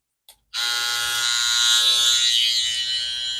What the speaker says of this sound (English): putting the new blade on this on the X trimmer will make it quieter